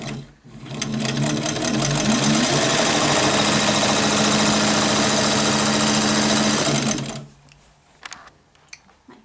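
A White Rotary sewing machine, model 43-223536, stitches in a continuous fast whirring, clattering run for about seven seconds, then stops, leaving faint room noise and small knocks.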